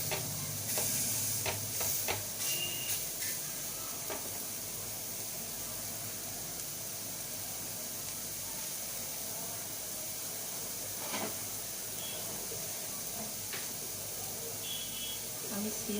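Chicken kebab fries in a pan over a gas flame, giving a soft, steady sizzle with occasional sharper crackles and brief stirring scrapes near the start.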